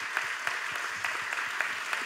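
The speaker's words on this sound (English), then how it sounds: "I'd like all of you to give them a collective thunderous round of applause." Collective round of applause for panelists at the Malaysia Social Media Week 2016 conference, a steady, fairly distant wash of many hands clapping with no talk.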